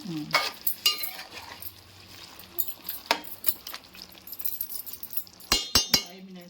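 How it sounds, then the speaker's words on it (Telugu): A spoon stirs chicken gravy curry in a pan just after fresh coriander goes in, with scraping, clinks against the metal and a light sizzle, coming in short irregular bursts up close. "కొత్తిమీర వేసేసుకోవాలి మళ్ళీ ఒకసారి మిక్స్ చేసుకోవాలా"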